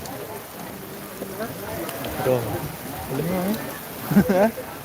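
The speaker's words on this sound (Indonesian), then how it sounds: "Hujan ringan ah" Light rain falls around a temple courtyard at Pura Penataran Sasih in Pejeng during a Calonarang ceremony, a steady soft hiss running beneath close voices talking.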